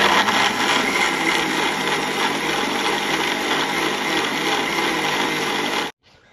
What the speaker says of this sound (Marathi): आता हे मिश्रण आपण मिक्सरला बारीक करून घेणार आहोत